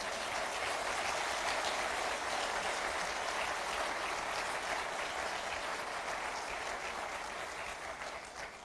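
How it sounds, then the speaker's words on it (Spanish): Steady, dense applause from a church congregation during a worship service, loud and continuous throughout, easing off only slightly at the very end. "Dale un aplauso a Él de alabanza."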